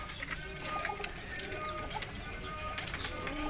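Pigeons sent by someone coo softly in a steady, continuous outdoor bed of noise, with faint higher calls scattered throughout and no clear talk.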